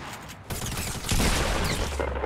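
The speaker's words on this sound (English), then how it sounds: "Oh, he shredded me with that SMG." SMG gunfire in the Fortnite battle royale game, a dense, loud rattle of fast shots that builds into a continuous shredding burst.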